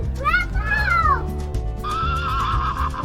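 A horse whinnies twice, the high neighs rising and falling, fairly close, over a steady low rumble.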